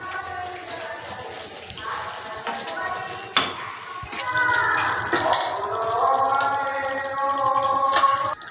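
Mutton pieces dropped into a pan of hot spices, sizzling and frying steadily with metal clinks and stirring scrapes against the pan, close and fairly loud throughout.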